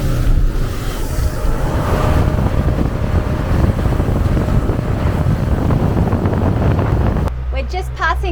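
Motorboat cruising at 26 knots from the Gold Coast toward Moreton Island, a loud steady engine and hull roar buffeted by heavy wind noise on the microphone, ending with a brief voice over quieter background.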